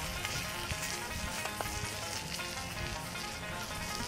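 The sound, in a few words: turkey sizzling in trashcan smoker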